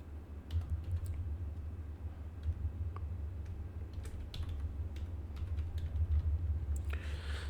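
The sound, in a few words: typing a folder name on a computer keyboard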